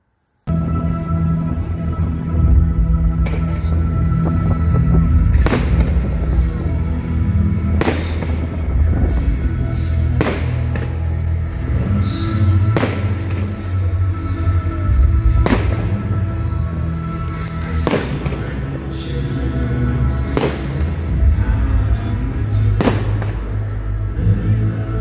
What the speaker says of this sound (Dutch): Ik heb vuurwerk gekeken in Leiden.